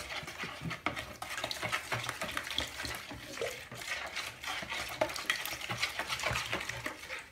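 Pizza dough mixture for a rolled pizza being stirred by hand, giving a steady run of close, busy scraping and clinking strokes against the bowl with no talk over it.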